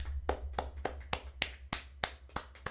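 Sparse applause for Essendon captain Zach Merritt, winner of the 2024 Boundary Riders medal: roughly ten distinct hand claps in a slow, uneven rhythm, close and fairly quiet, over a low steady hum.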